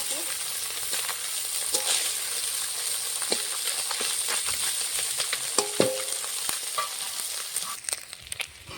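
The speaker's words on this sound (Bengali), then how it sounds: "মাছটা ভাজা হয়ে গেছে এখন নামিয়ে নেব লাল লাল করে ভেজে নিয়েছি" Fish frying in hot mustard oil in a kadai makes a steady crackling sizzle, with scattered sharp pops and spatters and occasional utensil clicks, heard alone at close range.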